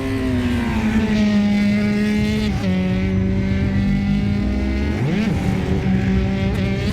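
Sim racing league race car engine drones loud and steady, its pitch dipping and sliding around the middle and again near the end as the car seems to spin, with no voices over it.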